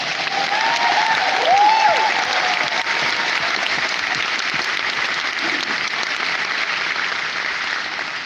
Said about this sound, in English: Could we just have a round of applause for Megan there?